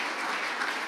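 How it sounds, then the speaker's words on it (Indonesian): A brief burst of audience applause at a talk show, dense clapping from many hands at an even level. "Tepuk tangan untuk Pak Meki."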